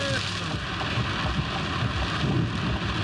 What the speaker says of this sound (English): I never seen so much damn rain come out of the sky in my whole life.